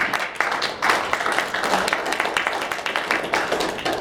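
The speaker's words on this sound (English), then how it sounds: "Round of applause." An audience at a conference gives a round of applause, a dense patter of clapping lasting the whole moment with a few voices mixed in.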